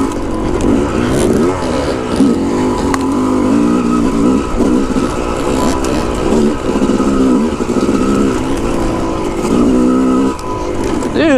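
A Yamaha YZ dirt bike engine revs hard on a forest trail, loud and close, rising and falling as the rider shifts and throttles, with no voices over the engine.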